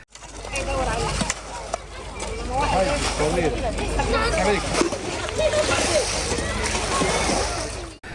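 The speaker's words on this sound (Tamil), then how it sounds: "தற்காலிகமாக அமைக்கப்பட்ட முகாம்களில் தங்கியுள்ள மக்கள் தண்ணீர் தேங்கிய பகுதிகளிலிருந்து நீரை வெளியேற்ற முயன்றனர்." Floodwater sloshes and splashes continuously and up close as people bail water from tents in a Gaza displacement camp during heavy rain, with voices talking underneath.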